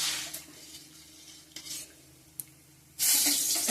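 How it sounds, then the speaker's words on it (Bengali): Bay leaf, onion and panch phoron fry in hot oil with a soft sizzle, while a utensil scrapes and taps the pan in a few sharp knocks. A loud burst of hissing swells near the end. "এখানে তেজপাতা, পেঁয়াজ, পাঁচফোড়ন দিয়ে দিছি।"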